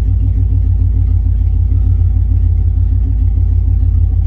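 Car engine fitted with a Holley Sniper EFI throttle body, a loud, close, steady low rumble with a slight rise under a little throttle, continuous throughout with no talk.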